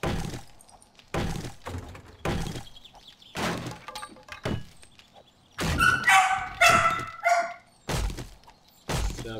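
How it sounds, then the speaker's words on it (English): A pet dog barks in a string of sharp, loud woofs with short gaps between them, close by in a home with no talk over it. "Stop barking at the other dog,"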